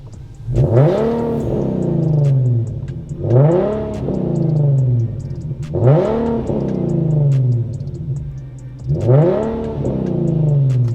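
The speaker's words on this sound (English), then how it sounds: "So I just want to rev it up real quick for y'all, man, so y'all can hear this exhaust" An Infiniti G37 engine revs hard four times in a steady rhythm, each burst rising sharply then falling back, with a loud, throaty exhaust close by.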